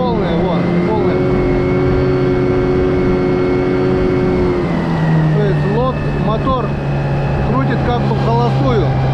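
An outboard motor on a boat with a tunnel hull runs at full throttle, droning loudly and evenly. Its pitch steps down about halfway through, and someone talks over the engine noise.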